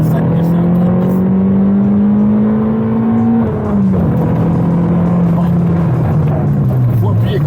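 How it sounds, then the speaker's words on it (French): A Citroen Saxo VTS pulls hard at full throttle in first gear, its engine note climbing loud and close from inside the cabin, dipping briefly at a shift or lift before rising again. "Allez, on est en première, on va appuyer à fond."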